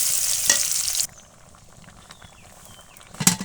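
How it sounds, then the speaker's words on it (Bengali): Chopped raw onion and garlic fry in a pan, giving a loud, close sizzle for about a second before it drops to a quiet simmer. A short clatter of stirring comes near the end. "আমি কাঁচা পেঁয়াজ এবং রসুন কুচি করে দিয়ে নিয়েছি। তো সেগুলোকে আমি লাল লাল করে ভেজে নেব।"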